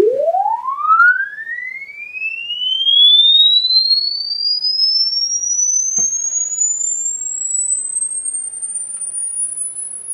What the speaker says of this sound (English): when we play the audio ramp, you can notice a difference in the way that it sounds compared to when we didn't have the RLC filter